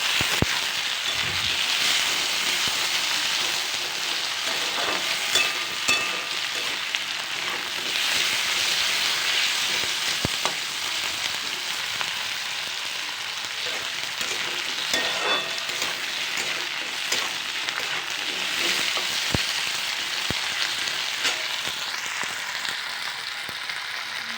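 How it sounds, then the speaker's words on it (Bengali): Potatoes frying in a pan for a broccoli, pea and potato curry, a steady close sizzle with occasional scraping stirs, continuous without any talk. "আলুগুলোকে ভালো করে ভেজে নিতে হবে এবার আলুগুলিকে একটু নাড়াচাড়া করে নিতে হবে"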